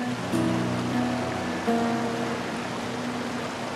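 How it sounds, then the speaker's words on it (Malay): Waterfall in Langkawi, a steady broad rush of falling water heard close and continuous, with soft tonal layers running over the constant wash. "Anda pun sampai di latar air terjun yang cukup indah"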